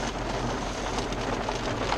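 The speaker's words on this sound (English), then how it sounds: "You guys can hear the rain." Rain falls outdoors at night, a steady dense hiss of drops on surfaces, even and continuous throughout at a moderate, fairly distant level, with no voices.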